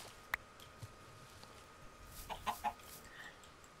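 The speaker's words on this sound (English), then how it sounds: "Oh, there's a chicken." A few short chicken clucks from a Minecraft chicken, quiet and brief, sounding as a small cluster of three over faint background ambience.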